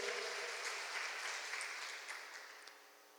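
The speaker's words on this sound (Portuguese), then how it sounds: "Você pode dar um aplauso ao sangue de Jesus" Congregation applauding during a Christmas church sermon, a soft, distant wash of clapping that stays steady and slowly fades away, with no voices over it.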